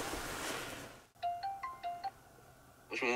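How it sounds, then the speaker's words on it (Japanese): A phone call is placed outdoors: after a stretch of wind-like noise comes a quick series of electronic dialling beeps at varying pitch, then a calling tone begins, clear and close. "ちょっとトモさん電話します"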